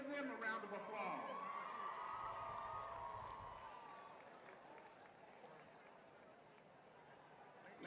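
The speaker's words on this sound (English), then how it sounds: "Let's give them a round of applause." A high school football crowd cheers and claps for cheerleaders, with voices and shouting rising at first, then fading into a quieter murmur of crowd noise and scattered applause.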